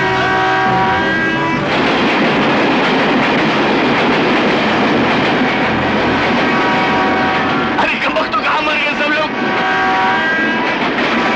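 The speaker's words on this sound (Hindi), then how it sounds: "ट्रेन आ रही है।" A train approaching in a film scene, a loud steady rumble of rail cars and engine filling the clip, with tonal horn-like lines and a brief burst of clatter near the end.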